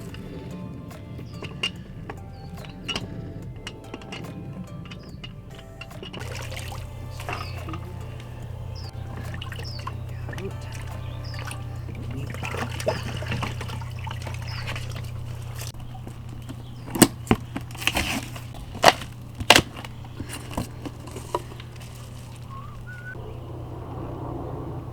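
Water trickles and dribbles while an old water pump is removed, with a steady low hum underneath and scattered clicks and knocks of handling, fairly quiet, with no speech.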